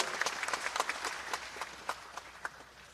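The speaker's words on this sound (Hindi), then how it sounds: "ताली बजा के कैलाश जी का स्वागत करें।" A crowd at a public government event claps to welcome Kailash ji: a quiet, somewhat distant patter of many hands with scattered sharper individual claps, fairly steady across the short stretch.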